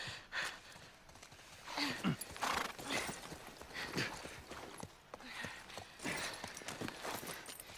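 Horse hooves clip-clopping at a walk in The Last of Us Part 1, steady soft footfalls with occasional snorts and breathy sounds, fairly quiet throughout.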